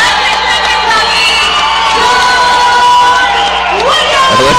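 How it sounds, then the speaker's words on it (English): Crowd at an MMA event cheering loudly for a fighter, a sustained roar of shouts, whoops and yells filling the arena, with announcer talk blended underneath. "Listen to the Reaction MMA crowd."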